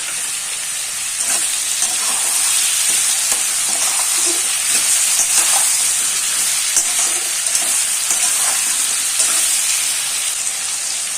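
Mixed vegetables with chopped tomato and salt fry in a pan, giving a loud, steady sizzle with occasional stirring scrapes, and no talking.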